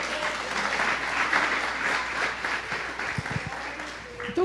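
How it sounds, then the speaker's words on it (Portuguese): Sustained applause from a church congregation fills the space, steady and fairly loud, with voices mixed in and fading slightly near the end. "Você pode dar uma salva de palmas ao Senhor?"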